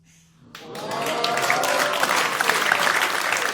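Audience at a live stand-up comedy show at the Pleasance breaking into applause, swelling quickly from quiet into loud, sustained clapping that continues to the end, with some crowd noise mixed in.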